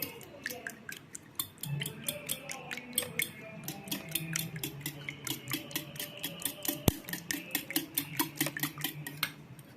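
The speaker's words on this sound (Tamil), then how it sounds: "விஸ்க் வச்சு இதை நல்லா அடிச்சுப்போம்" A whisk beats a mixture in a bowl with rapid, steady, evenly spaced clicking strokes that continue throughout at a moderate, close level.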